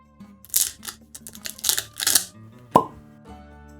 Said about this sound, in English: Good cork pop though, and it is a proper cork, which is always nice.